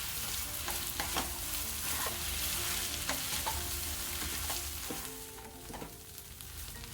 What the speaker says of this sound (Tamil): எல்லாமே நல்லா மிக்ஸ் பண்ணிவிட்டு ஒரு 2 நிமிஷம் ஃப்ளேம் சிம்மில் வச்சு மூடி வச்சிடலாம்.